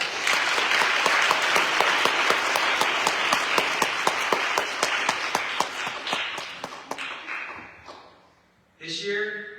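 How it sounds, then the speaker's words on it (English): Audience applause at a graduation and award ceremony: dense, loud clapping from a crowd for about eight seconds, with sharp individual claps standing out, then fading out before a voice begins speaking near the end. "Give them all a big round of applause."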